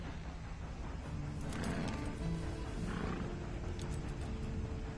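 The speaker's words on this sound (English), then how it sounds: "And you better get on this horse." A horse in the video game Red Dead Online snorts and shifts with soft hoof clip-clops, faint against a heavy, constant rumbling background noise, with no talking.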